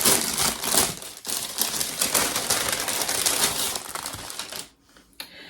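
A sealed book fair bag of purchases being torn open and unwrapped, loud close crinkling and rustling of plastic that runs almost continuously, then drops away near the end with a final small rustle.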